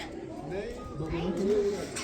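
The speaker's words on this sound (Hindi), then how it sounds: "यहाँ कबूतर बहुत है रे।" Soft pigeon cooing rises and falls nearby at a temple in Kathmandu, Nepal, mixed with murmured voices and light background bustle.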